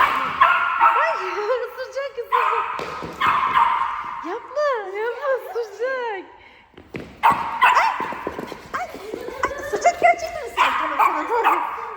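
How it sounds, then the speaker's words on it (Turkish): A dog yips and whimpers in short high bursts close by, mixed with people talking and laughing. "bu da Via'nın köpeği Zeus"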